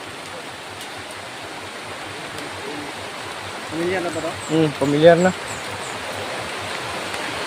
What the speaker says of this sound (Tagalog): Sobrang lakas ng ulan na tol.